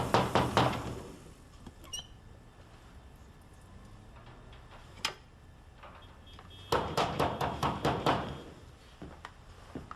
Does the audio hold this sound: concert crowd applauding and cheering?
no